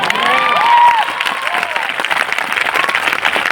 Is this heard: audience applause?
yes